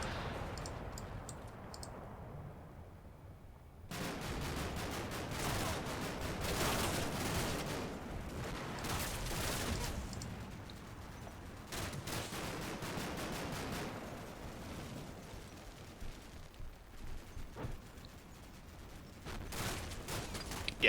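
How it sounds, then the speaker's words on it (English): Bursts of rapid heavy 30mm cannon fire in the war game Combat Mission: Black Sea, loud sustained volleys broken by short pauses, with scattered sharper shots and clicks between them. "30mm cannon fire."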